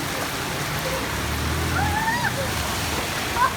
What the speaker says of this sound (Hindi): पानी देखिए कितना तेज़ है, सैलाब आया हुआ दोस्तों